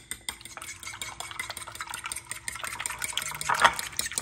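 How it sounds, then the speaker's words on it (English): A fork whisks eggs in a bowl for a fried chicken sandwich, a steady run of quick clinking and sloshing strokes up close, growing a little busier toward the end, with no voices. "Now we need to beat our eggs."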